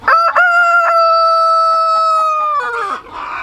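A rooster crows loudly and close by, one long sustained cock-a-doodle-doo that drops off at the end, followed by brief rustling.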